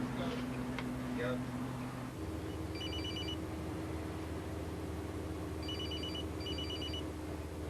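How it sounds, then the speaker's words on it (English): A telephone rings on a bus in repeated short electronic bursts, three rings spread across the clip, heard under a steady engine drone and cabin rumble with some voices early on. "annoyed by the phone ringing"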